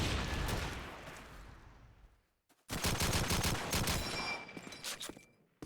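Rapid bursts of gunfire in a competitive video game match on a haunted castle map, dense volleys at first, a brief silence, then another long stretch of fast, loud shots with sharp cracks.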